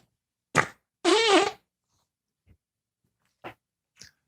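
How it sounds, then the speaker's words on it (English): Short bursts at close range, one brief and one longer rumbling with a wobbling buzz, followed by a few faint scattered ticks and pops in otherwise quiet surroundings, consistent with a person breaking wind. "I name every fart"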